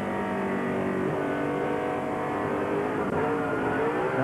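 A NASCAR Cup Series race car engine drones steadily at high revs at New Hampshire as the driver gets back on the throttle, a loud continuous whine with a slight pitch rise near the end.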